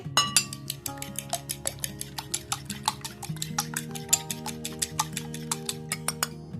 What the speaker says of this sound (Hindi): और ये जो अंडा है इसको फेंट लेंगे।